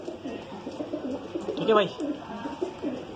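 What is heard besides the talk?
Punjabi pigeon cooing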